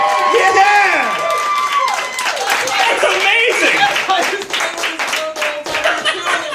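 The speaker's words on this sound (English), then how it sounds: "Round of applause for Mr. Hodges, everybody." Audience at a virtual comedy special claps and cheers, a steady round of applause mixed with talk and some laughter, fairly loud throughout.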